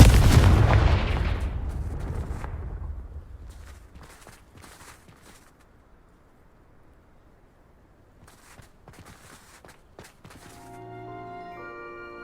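A Confringo blasting spell explodes in the Hogwarts Legacy video game, a loud booming blast that rumbles and decays over a few seconds, followed by faint footsteps, small clatters and soft game music.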